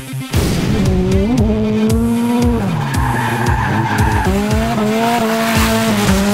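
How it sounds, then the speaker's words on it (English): A Scion tC race car slides sideways while drifting, tires squealing loudly and continuously under a revving engine, with pitch shifts as the car transitions through the slide. "I control the car in a sliding manner. It's drifting, it's going sideways."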